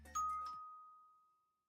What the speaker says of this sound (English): Who the fuck rang my doorbell?